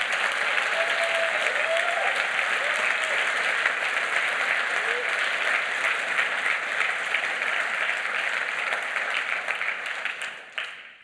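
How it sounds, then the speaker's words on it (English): Sustained audience applause at the Ubuntu Summit 2023 tech conference, a loud, even roar of many hands clapping for about ten seconds before dying away abruptly. "a way that we can give them a round of applause"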